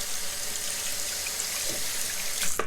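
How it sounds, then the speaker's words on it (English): Tap water runs steadily into a sink to rinse a shaving blade, a constant hiss of moderate loudness with a faint clink near the end, no talking. "rinse off my blade, put some more water, make sure it's smooth"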